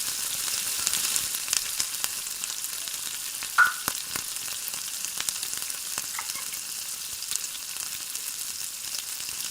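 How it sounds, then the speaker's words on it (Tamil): Mustard seeds spluttering in hot oil in a pan, a constant close sizzle broken by scattered sharp pops and crackles, alone without voices. "எண்ணெய் காயவும் கடுகு போடுறோம்"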